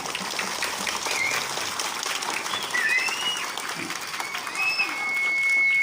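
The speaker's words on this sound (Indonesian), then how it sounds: "Tepuk tangan buat Bapak Ibu guru kalian" Students applauding their teachers at an outdoor school ceremony marking Youth Pledge Day, a steady spread of clapping with scattered high chirps and voices beneath it.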